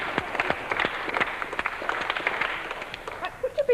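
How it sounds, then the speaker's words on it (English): A small group of children gives a round of hand clapping during a 1985 double bass teaching session, scattered claps close by under light chatter, tailing off near the end. "let's give her a clap."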